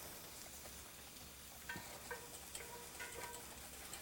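A ball whisk stirs garlic aioli in a bowl, giving soft, quick, irregular clicks and light scraping taps, close by but faint against a quiet hiss.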